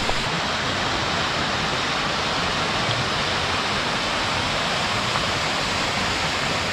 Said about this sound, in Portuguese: Chegamos na Cachoeira do Ari.